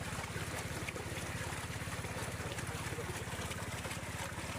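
A boat heads out to sea with steady wind, a low rumbling motor throb under constant broadband wind and water noise, continuous and fairly close throughout.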